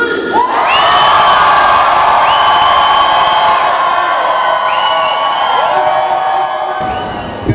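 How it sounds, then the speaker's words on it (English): A large crowd at a Secret Walls live art battle event in Washington DC screams, whoops and cheers loudly and continuously, a dense wall of shouting voices that swells and holds for several seconds. "I want you guys to scream as loud as you can."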